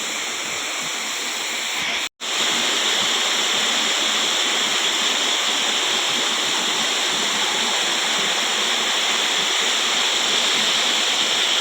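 At a village dam spillway in the Konkan countryside, water rushes in a steady loud broadband roar, unbroken except for one split-second dropout, with no voices.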